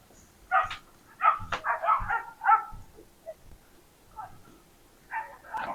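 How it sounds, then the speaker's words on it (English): Three or four chained dogs bark in a neighbor's backyard, heard from indoors near a window as a scattered run of muffled, fairly distant barks and yips of varying loudness. "that's the sound of about 3 or 4 dogs that are consistently chained up"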